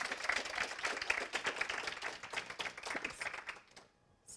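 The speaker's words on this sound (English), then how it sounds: "I think we should give her one last applause." Audience applause after a talk on AI and equality, a dense patter of many hands clapping at close-to-mid distance for about three and a half seconds before fading out.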